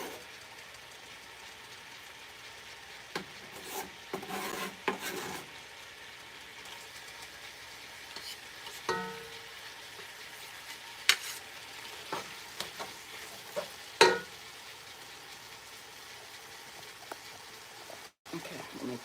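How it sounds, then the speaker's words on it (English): Beef and garlic frying in a pan for samosa filling, a low sizzle broken by scraping and clacking strokes of a spatula as it is stirred, with sharper knocks now and then. "So the garlic into the beef, and try and keep on mixing."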